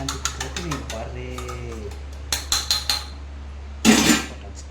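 A spoon clinks against a cup while masala tea is stirred, a run of sharp metallic taps in two bursts followed by a louder scraping swirl, close by, with a steady hum underneath.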